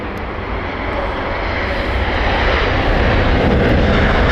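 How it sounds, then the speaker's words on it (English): A Delta Airbus A330neo airliner passes low over Heathrow with a loud, steady roar of engines that swells gradually as it draws near, with no talking over it. "Oh, Delta's coming really low."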